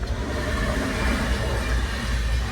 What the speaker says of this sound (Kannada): ಈಗ ಬಂತು ಟ್ರೈನು.